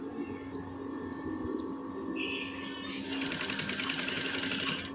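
A sewing machine stitches loose, widely spaced seams into a bias-tape strip filled with mattress thread, running as a steady close mechanical whir that grows busier and brighter partway through, with no talk.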